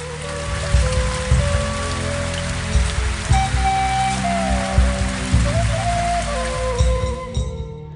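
Steady, heavy rain pours down onto a surface, a dense continuous hiss with irregular drips and thuds throughout.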